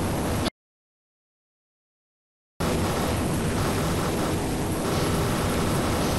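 Propeller airplane engine droning in the video game ARMA 2, a steady loud hum that cuts out briefly to silence and then resumes unchanged, with no voices.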